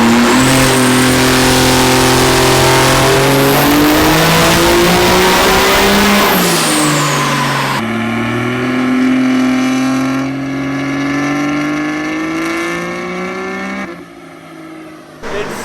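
A Cummins diesel truck engine on a dyno roars steadily for a long pull, pitch climbing as it revs hard, then drops and winds down near the end.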